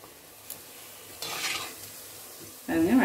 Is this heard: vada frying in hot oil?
yes